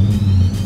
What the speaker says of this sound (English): downshifting sounds amazing